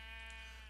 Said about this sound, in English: Are you one of my original sheep?